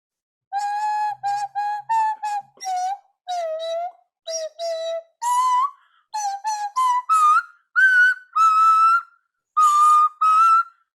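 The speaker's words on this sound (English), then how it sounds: "Begin gave kids a nose whistle, and I brought one with me today." An Okinawan nose whistle plays a tune in a sequence of short, bright, clear tones with pauses between phrases, close and prominent against a silent background.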